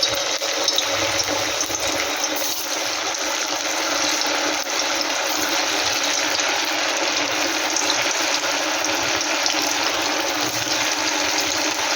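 Sago pakora batter sizzles in hot oil, a steady bright crackling hiss that runs continuously throughout with no voices.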